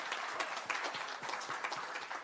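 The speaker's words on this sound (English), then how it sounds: "What about a round of applause for David Diamante, everyone?" Brief applause from the crowd at a boxing final press conference, a dense, steady burst of many people clapping at close range.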